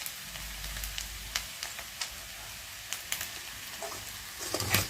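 Curry leaves sizzle in a pan of spicy Andhra-style chicken fry as they are stirred in, a steady hiss with soft scraping strokes and occasional pops, fairly quiet and close.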